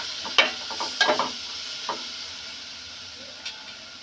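Turmeric is stirred into a sizzling tempering in a pan for buttermilk curry, a few sharp spoon clinks and scrapes over a faint steady frying hiss that fades, close with no speech.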